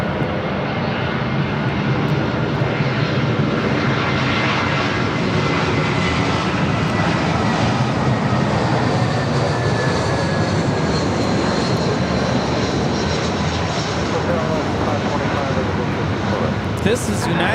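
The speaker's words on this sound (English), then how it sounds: "This is United Airlines 1082 coming in from San Francisco on the A320." A United Airlines Airbus A320 jet airliner arriving at LAX from San Francisco, a steady broadband engine roar that holds loud and continuous, with voices talking over it.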